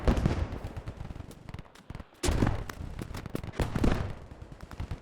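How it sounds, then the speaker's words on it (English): Dense battlefield din from the Squad 44 video game: bursts of machine-gun and rifle fire with heavy mortar blasts, loud and continuous apart from a brief lull midway. "Mortar assaulting on all sides of the objective."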